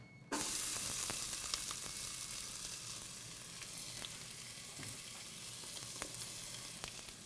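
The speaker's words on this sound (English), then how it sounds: "we're just going to let those saute for a little bit until they're nice and soft" Onion hits hot oil in a pan with a sudden burst of sizzle, then keeps frying with a steady hiss and occasional soft stirring scrapes. The frying is close and there is no talking.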